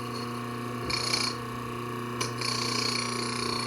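A part of a grain mill being screwed back on clockwise by hand, giving two short scraping, grinding turns against a steady background hum.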